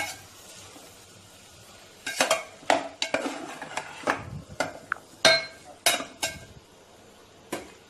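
A spoon stirs coconut milk biryani in a pot, giving irregular clanks and scrapes of metal on cookware against a quiet kitchen background, with no talking.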